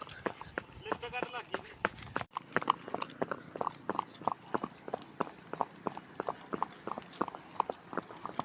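Steady hoof clops from a walking mare, evenly spaced and fairly close, with a brief scuffle at the start and faint background noise throughout.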